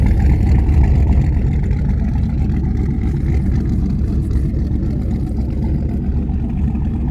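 A turbocharged LS engine in a GMC Sierra pickup truck runs steadily, with a loud, close, even rumble that holds for the whole stretch without speech.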